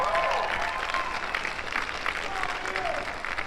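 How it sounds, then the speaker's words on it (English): Seminar audience gives a subdued, lukewarm golf clap, a steady patter of moderate clapping lasting a few seconds, with faint voices murmuring underneath. "Thank you for the golf clap."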